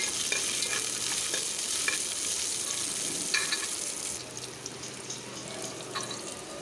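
Onion, mustard seeds and urad dal fry in a couple of teaspoons of coconut oil, giving a steady bright sizzle with occasional crackles and stirring scrapes, close and without talk.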